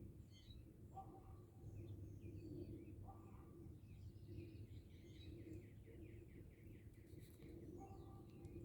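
Birds chirping and calling outdoors in a garden on a chilly evening, repeated short calls at varying distances over faint steady background noise, with no voices.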